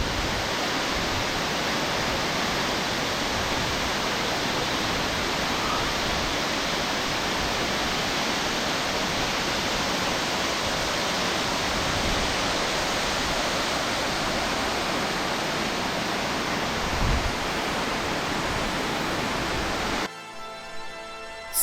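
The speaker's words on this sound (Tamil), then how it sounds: "அந்த மலைக்கு மேலேருந்து ஒரு அருவி குதிச்சுட்டு இருக்கு" Hebbe Falls waterfall near Kemmangundi in Chikmagalur, India, plunging down a hillside: a loud, unbroken roar of falling water that stays constant throughout, heard close up with no voices.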